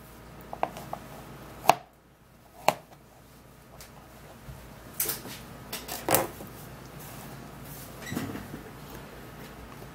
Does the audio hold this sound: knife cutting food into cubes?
yes